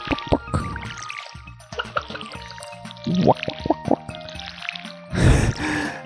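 Watering crops with a watering can in Stardew Valley, a farming video game: a series of small dripping, pouring and splashing effects, with a louder burst of gushing water near the end and other light game sounds around it.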